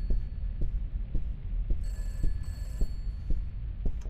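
A telephone in a dark horror video game starts ringing with a thin electronic trill in bursts partway through, over a slow, loud, throbbing heartbeat-like thump and low hum.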